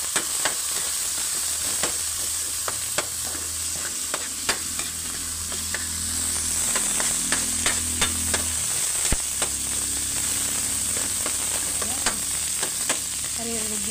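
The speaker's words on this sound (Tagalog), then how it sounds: "Maririnig yung ingay ng ating ginigisang kamatis, luya, bawang, sibuyas." Tomato, ginger, garlic and onion sauté in a pan with a steady, close sizzle, broken by frequent sharp scrapes and clinks of a utensil stirring.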